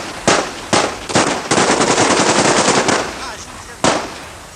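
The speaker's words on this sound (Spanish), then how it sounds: "Entonces, atronaron los disparos." Execution gunfire: a few sharp single shots crack out, then a dense burst of rapid automatic fire rattles for about a second and a half, fading, followed by one more isolated loud shot.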